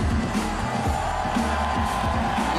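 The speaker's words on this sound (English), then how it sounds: "Listen to the crowd loving the French B-boy, Danny Dan." A crowd at a breakdance battle in Paris cheers and whoops in a steady wall of noise, loud and sustained throughout, with no clear pauses.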